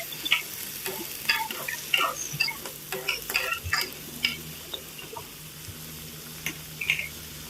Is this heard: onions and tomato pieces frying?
yes